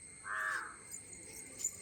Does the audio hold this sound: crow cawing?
yes